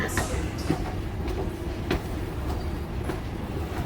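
A metro or subway train running, with a dense continuous rumble and rattling wheel clicks heard from close by, steady throughout.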